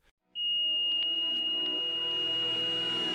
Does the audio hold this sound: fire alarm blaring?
yes